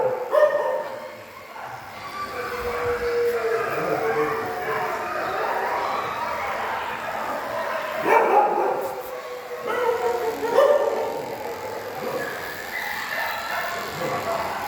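Stray dogs bark during a volunteer grooming session, a mix of close, loud barks, yips and whimpers in irregular bursts against a busy outdoor background.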